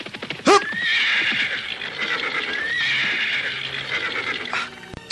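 A horse in a radio drama lets out a sharp, loud whinny as its rider pulls it to a stop, with hooves clip-clopping and shuffling around it and a second fainter whinny following.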